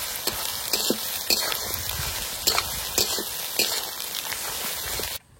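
Ginger and garlic sizzle and fry in hot oil in a pan over fried onions while the mixture is stirred, a steady loud crackle broken by periodic scraping strokes, with no one talking.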